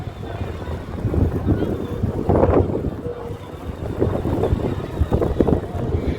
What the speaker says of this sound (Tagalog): Malakas ang hangin dito guys.